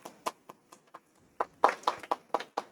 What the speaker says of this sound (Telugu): ఒకసారి అందరు క్లాప్స్ కొడదాం